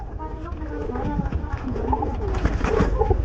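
Giribaz pigeons coo repeatedly in soft, rounded phrases. The birds are close by, and someone talks over them.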